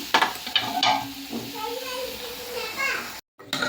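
Tempering (oggarane) sizzles and crackles in a hot pan while a spoon stirs, with voices talking over the cooking throughout.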